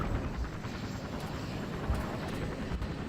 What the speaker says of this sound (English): Unfortunately, I believe that an American just took that helicopter.